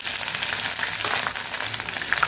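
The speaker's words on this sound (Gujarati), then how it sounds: "અડધી ચમચી જેટલું આપણે જીરું ઉમેરશું એક મરચું ને જે એક ઇંચ આદુનો ટુકડો લીધો તો એ આપણે અહીંયા સાતળવામાં ઉમેરી દઈશું" Half a teaspoon of cumin seeds, a green chili and an inch-long piece of ginger sizzle in hot oil in a pan, a steady, dense crackling hiss that continues without pause.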